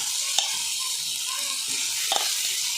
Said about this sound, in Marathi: आता याच्यामध्ये ना हे शेंगा घालून घेते